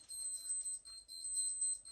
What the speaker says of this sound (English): Can you hear them alarms? Listen to them alarms.